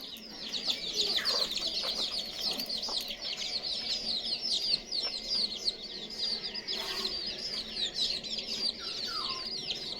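Backyard hens and very small chicks make continuous high peeping with occasional clucks, fairly quiet and close by, with no talking.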